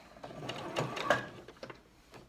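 A sewing machine stitches a glove around the fingers in short bursts, each run of stitches starting and stopping close by, fairly quiet, with no voices.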